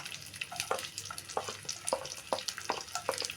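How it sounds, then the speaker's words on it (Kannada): Sliced onion sizzling in hot oil in a pan with mustard seeds and cumin, a soft crackling spatter with irregular small pops, close and fairly quiet. "ಈರುಳ್ಳಿ ಫ್ರೈ ಆಗಲಿ ಸ್ವಲ್ಪ."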